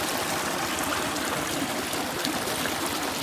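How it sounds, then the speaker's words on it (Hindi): Irrigation water flows steadily across wheat fields through pipes in rural Pakistan, a continuous rushing, trickling stream heard up close with no talking. "फसलों को पानी लगाया जा रहा है।"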